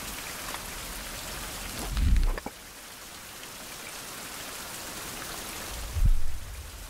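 Steady rain in the survival game Survival: Fountain of Youth, a constant hiss of falling drops on surfaces, broken by two low rumbling thumps of thunder.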